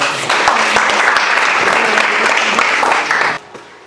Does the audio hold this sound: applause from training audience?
yes